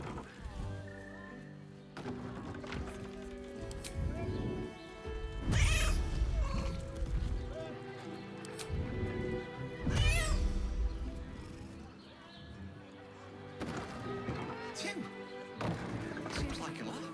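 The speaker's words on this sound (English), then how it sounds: "I keep hearing a damn cat and I can't find it." A cat meows and caterwauls repeatedly in Baldur's Gate 3, its cries loud and recurring, mixed with background game sounds and someone talking over them.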